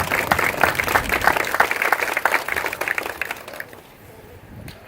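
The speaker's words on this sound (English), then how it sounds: "How about a round of applause for our Chief of Fire, Forrest Reeder." Outdoor audience applause at a fire station groundbreaking ceremony, steady dense clapping for about three and a half seconds before fading to a quiet tail.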